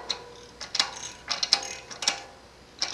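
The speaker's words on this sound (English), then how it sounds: "So I'm just going to tighten them snug with my screwdriver, and then I'm going to take the torque tool." A torque tool tightens Shimano XT RT86 six-bolt disc rotor bolts in short bursts of quiet, close ratcheting clicks, with several separate clusters spread across the moment.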